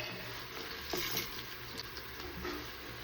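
Onions fry in hot oil for a soya chunks vegetable pulao, giving a soft, continuous sizzle and crackle heard close but quiet, with a slight stirring scrape near the middle.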